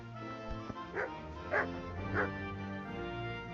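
Dog in the video game Kingdom Come Deliverance barks several times, a few distinct woofs and yips at moderate distance, with a faint voice around them.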